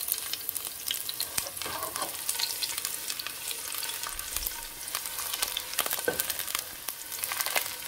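Chopped onion frying in very hot oil with a steady crackling sizzle and occasional stirring scrapes, close and continuous throughout, no one speaking.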